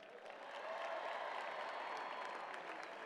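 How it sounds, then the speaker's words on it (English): A large outdoor crowd at a college football national championship parade and celebration breaks into sustained applause, a steady dense wash of clapping and cheering heard from a distance that holds level for the whole stretch. "They all deserve a great round of applause"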